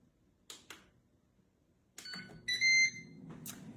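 Air fryer control panel: two quick clicks, then a short series of bright electronic beeps as air fry mode and a fifteen-minute timer are set, close and fairly quiet in a kitchen.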